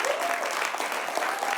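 An audience at a creative marathon project presentation applauds, making a dense, steady burst of clapping heard up close throughout.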